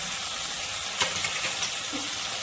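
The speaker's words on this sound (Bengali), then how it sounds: "এবার মশলাটাকে ভালো করে কষিয়ে নেব।" Spice paste of chilli powder, onion, ginger and garlic sizzles steadily in a hot pan, a continuous close frying hiss with a soft stir or scrape now and then, no talking.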